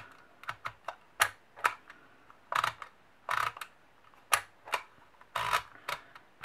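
A handheld Dymo embossing label maker clicks and clacks as letters are pressed into tape, a close series of irregular mechanical snaps and ratcheting squeezes, fairly quiet with no voices.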